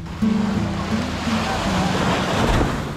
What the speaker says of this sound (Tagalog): So ito yung dagat dito.